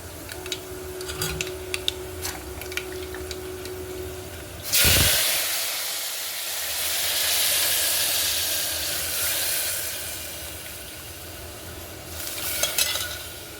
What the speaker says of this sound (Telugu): ఎల్లిపాయ ఏగిన ఫ్రెండ్స్ ఇప్పుడు తాలింపు వేసుకున్నారు